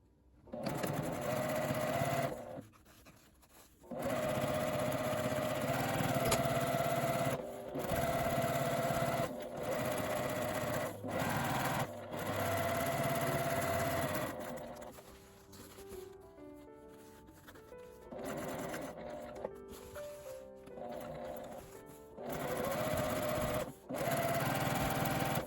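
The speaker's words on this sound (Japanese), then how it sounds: "端にミシンをかけます。" A sewing machine runs along the edge of a fabric tissue cover in several bursts of rapid mechanical stitching, each a few seconds long, separated by brief pauses and quieter handling.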